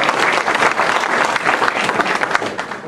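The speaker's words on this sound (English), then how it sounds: "let's have a nice round of applause for them." A crowd at a town's 125th-anniversary celebration in Wolbach, Nebraska gives a steady, dense round of applause that holds at a constant level throughout.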